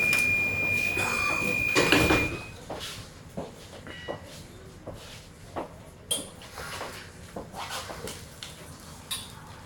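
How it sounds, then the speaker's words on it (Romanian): Doors of a Bucharest metro train on line M2 closing, a warning chime and a sharp clunk followed by a run of knocks and rattles as the train settles, with no talk over them. "Atenție, se închid ușile."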